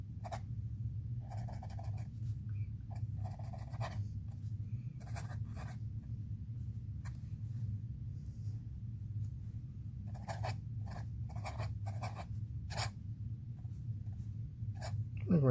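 A Wahl All Metal pen in the Dart pattern writing on paper, producing soft, scratchy nib strokes in irregular short bursts over a steady low hum, close and faint.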